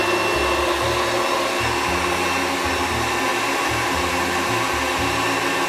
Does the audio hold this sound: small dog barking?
no